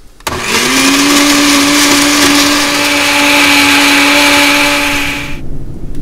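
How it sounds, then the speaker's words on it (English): An electric kitchen blender grinds shrimp shells and heads, running as a loud, steady whir for about five seconds before cutting off, with no talk. "I'm gonna put all the shells and the head into the blender."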